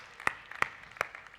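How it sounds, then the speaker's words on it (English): Audience clapping for quiz winners at a medical quiz, four evenly spaced sharp claps heard close and moderately loud, with no voices. "Come on, give them a round of applause."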